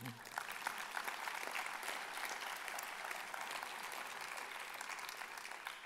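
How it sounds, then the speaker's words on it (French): A hall audience breaks into steady, dense applause at the opening of the 39th FNADEPA national congress, a continuous wash of many hands clapping for about six seconds without fading. "On peut les applaudir."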